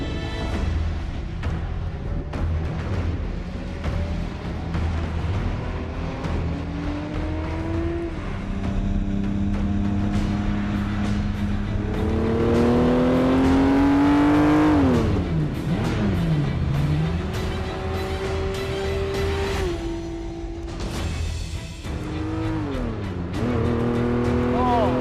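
Ferrari F50 engine heard from inside the car while driving, a loud high-revving wail that climbs through the gears with sharp rising sweeps and drops between shifts, continuous and close.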